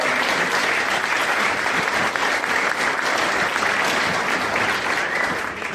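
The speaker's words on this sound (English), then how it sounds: "That's worth an applause." Loud, dense applause from a live audience at an auction held during a skeptics' podcast show, a steady roar of many clapping hands that holds at full strength and eases slightly only at the very end.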